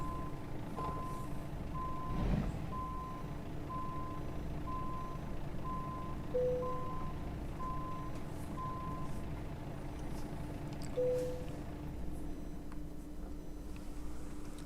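A truck in American Truck Simulator backs into a spot, its reversing alarm beeping at an even, regular pace over a low engine rumble, with a short air-brake hiss near the start and a couple of higher chimes later.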